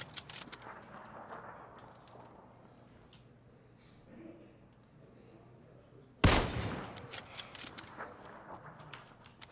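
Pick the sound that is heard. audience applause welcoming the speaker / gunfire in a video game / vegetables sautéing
gunfire in a video game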